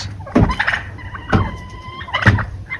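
Turkeys gobble in three quick, rattling bursts, close and loud, with short pauses between the calls.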